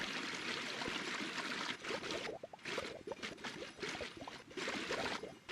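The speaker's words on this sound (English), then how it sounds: "The water sounds are kind of satisfying." Flowing water in a building video game, a close, continuous trickling and gurgling stream with soft splashy bursts that swell and dip, heard alone without talk.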